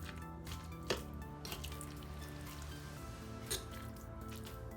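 Guacamole ingredients are mixed together in a bowl, making soft, wet squishing and stirring sounds with a couple of sharper taps, close and fairly quiet, with no one speaking.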